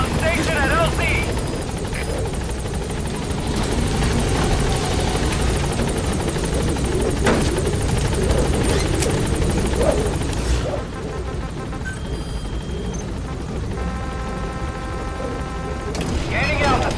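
B-Quad helicopter arriving at a landing zone in Metal Gear Solid V, loud continuous rotor roar with bursts of distant gunfire and a radio voice over it, easing slightly near the end.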